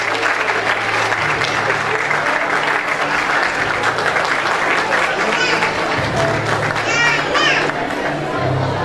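Students are called to the stage at a school award ceremony, and a large audience applauds with steady, dense clapping that stays loud and even throughout, mixed with faint murmuring and children's voices.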